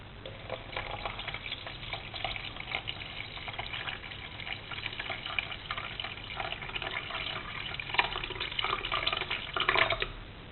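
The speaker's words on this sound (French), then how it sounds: "je vais mettre 400 g d'eau" About 400 grams of water poured steadily into flour while making dough: a continuous, even gushing splash that runs unbroken for around ten seconds at moderate loudness, with no one speaking.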